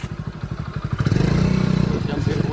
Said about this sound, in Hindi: छोटी सी मोटरसाइकिल चल नहीं रही मेरे से